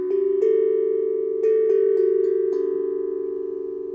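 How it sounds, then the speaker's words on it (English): A Harmonic Star steel tongue drum played freestyle, several struck notes ringing out clearly with long overlapping metallic sustain, each new strike blooming over the fading tone before it. "hearing the different notes and tones that come out of this tongue drum"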